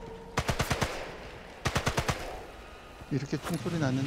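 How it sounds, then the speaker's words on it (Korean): Two quick bursts of rapid automatic gunfire in Sniper Elite 5, about five shots each, sharp and close, followed by a brief voice speaking. "이렇게 총소리 났는데"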